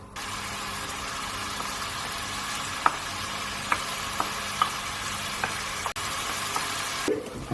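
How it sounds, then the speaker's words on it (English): Thai curry paste fries in hot oil inside a pressure cooker with a steady, close sizzle and occasional small pops and clicks of stirring. "We're going to cook this paste through till it releases its aroma"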